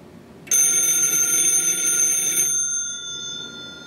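A vintage Western Electric telephone bell rings in one loud, close, continuous two-second burst, then its metallic tone fades out into quiet.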